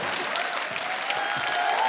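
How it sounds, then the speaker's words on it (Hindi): Studio audience applause for a child contestant on a comedy show, a dense, steady wash of clapping that holds at a constant loud level throughout. "समर्थ के लिए जोरदार तालियां।"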